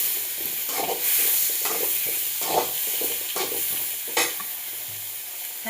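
Carrot, radish and other vegetables sautéing in a pan for sambar, a steady close sizzle broken by repeated scraping stirs at an uneven rhythm.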